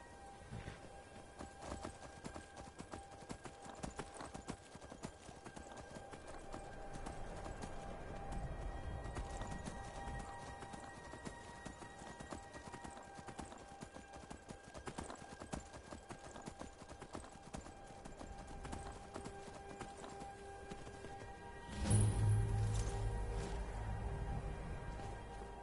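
Horse hooves clip-clop at a gallop in Skyrim, a fast, steady drumming of hoofbeats throughout, with a heavier thud and rumble near the end as the horse pulls up.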